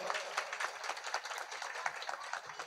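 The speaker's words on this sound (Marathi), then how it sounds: "त्यांच्यासाठी जोरदार टाळ्या वाजवा." Audience applause for singers at a devotional Devi Bhagavat katha gathering, a soft, steady patter of many hands clapping at a moderate distance, continuous throughout with slight swells.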